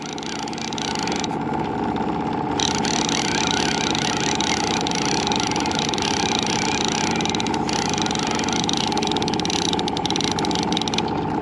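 A boat motor on a trout-fishing boat in North Idaho idles right after being started, a steady, close droning hum that continues evenly throughout.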